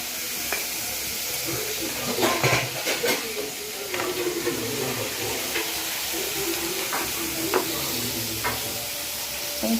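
Onions, tomato and curry leaves sauté in a pan with a soft, continuous hiss and sizzle, punctuated by scattered clicks and scrapes of stirring, fairly faint and steady.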